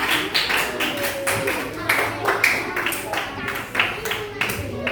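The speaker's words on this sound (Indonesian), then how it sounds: "Kasih tepuk tangan lagi buat kamu berdua." Children clapping together in a classroom, a sustained ripple of claps from a group of classmates applauding two peers, with talk mixed in.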